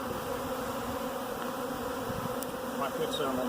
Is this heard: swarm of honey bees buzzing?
yes